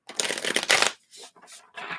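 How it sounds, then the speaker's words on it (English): A deck of tarot cards is shuffled by hand in several quick riffling bursts, loud and close, with short pauses between the bursts. "So let's give these a couple shuffles, get the energy flowing."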